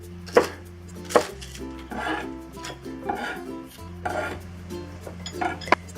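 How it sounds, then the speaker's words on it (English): A knife cutting an onion into quarters on a board, with a few sharp chops and scraping strokes against a quiet kitchen hum, close and clear with no talking. "Next, we'll cut the onion. We'll cut it into quarters."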